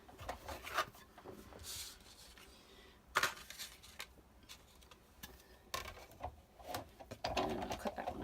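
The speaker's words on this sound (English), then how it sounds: "So what I'm going to do is die cut that out, grab my cutting machine" A card die is run through a die cutting machine. Quiet mechanical rubbing and rolling comes with a few sharper clicks and clunks, some louder bursts near the middle and end, and no talking.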